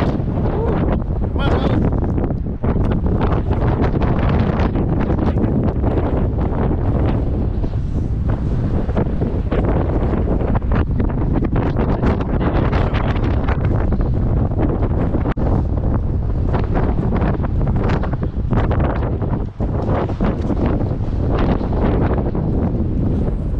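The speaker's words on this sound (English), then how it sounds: "When it's really windy like this, you get out of the car one at a time" Strong wind gusts around a parked car in Alaska, a loud, constant rumbling buffet that batters the microphone from start to finish.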